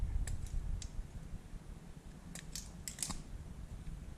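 Wire cutters snipping through the two wires of a cigarette lighter plug lead, several crisp close clicks and snips scattered over a low background hum.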